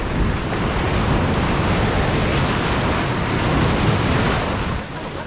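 Surf rolling onto a beach at Playa Pascuales in Tecomán, Colima, a steady broadband wash of breaking waves with a slight wind rush, loud and continuous, easing off near the end.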